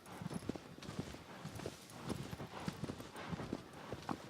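Horse hooves clip-clopping in Shadow of the Colossus (2018), a steady quiet rhythm of repeated hoofbeats at moderate distance with no talking.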